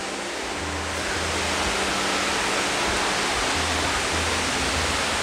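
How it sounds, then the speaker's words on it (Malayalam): Iruppu waterfall in Karnataka sends out a constant, dense wash of falling water, steady and fairly loud throughout, with a faint low hum running beneath it. "ഓ, ഇതാണ് ഇരിപ്പു വെള്ളച്ചാട്ടം."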